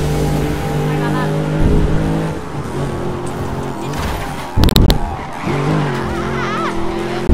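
Tires squeal and a car skids in the Need for Speed Rivals racing game, with a steady engine drone throughout and a sharp crash burst near the end, while a voice talks over the action.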